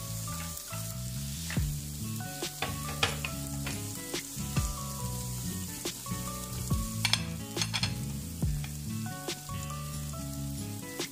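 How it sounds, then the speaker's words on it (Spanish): Zucchini tipped into a pan of softened potatoes for a Spanish potato omelette, oil sizzling and crackling steadily while the vegetables are stirred, with scraping and clattering utensil strokes recurring every second or so. "Le vamos a añadir el calabacín."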